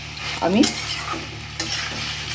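A spoon stirs pumpkin curry with fried peanuts and boiled potato in a pan, giving a close scraping sound over a soft, steady sizzle.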